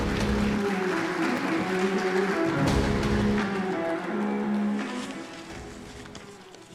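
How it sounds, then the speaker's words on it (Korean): An audience applauds at the opening ceremony of the 18th World Ocean Forum in Busan, a sustained wash of clapping from a large hall crowd that fades gradually toward the end, with no voices over it. "큰 박수로 모시겠습니다."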